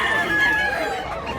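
A rooster, a medium-size Black Hinner bullstag being sold at a market in Mantalungon, Cebu, lets out one brief, loud crow close by.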